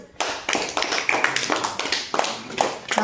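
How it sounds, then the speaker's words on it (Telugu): Schoolchildren clapping together in a second-grade classroom, a close run of quick, rhythmic claps in uneven bursts that fills the short stretch, with no talking over it. "very good claps"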